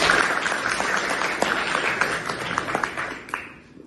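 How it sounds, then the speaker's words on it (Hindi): A lecture audience claps in a soft, diffuse patter, with a few louder individual claps standing out before the applause tapers off and fades. "अच्छा लगा हो तो ताली बजा सकते हैं"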